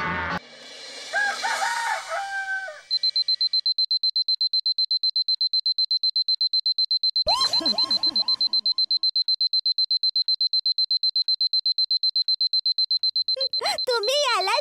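A loud, continuous alarm clock rings on without stopping, a steady rapid pulsing beep that runs for over ten seconds, after a rooster crows near the start; voices speak briefly over it in a household comedy scene.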